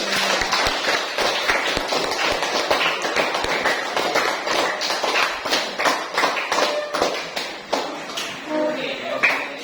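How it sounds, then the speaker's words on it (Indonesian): Classroom applause, a dense patter of many hands clapping fairly close throughout, with some voices mixed in. "kita beri tepuk tangan ya"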